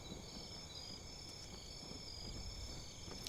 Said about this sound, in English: And the chirp of the cicadas